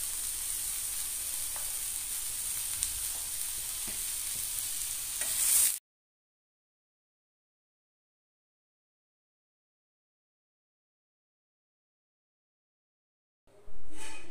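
Tomatoes and garlic cloves roasting in a pan for a prawn masala, a steady soft sizzle for several seconds with a stir near the end, then silence, and a short burst of sizzle again at the close.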